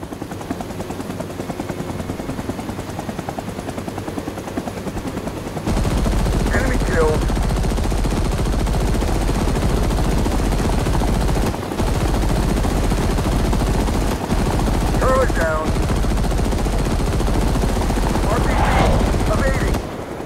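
Cobra attack helicopter in the Rising Storm 2 Vietnam game: a loud, steady rotor drone runs throughout, with bursts of machine gun fire and short radio-like voice chatter over it.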